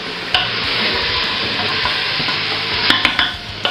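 Lamb meat searing in a hot pan gives a loud, steady sizzle throughout, with a few light clinks and stirring scrapes near the end.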